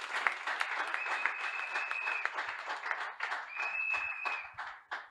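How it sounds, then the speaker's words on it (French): A church congregation applauding during a morning service, dense steady clapping from many hands at close range, with a sustained tone running through parts of it. "continue to clap for Jesus this morning"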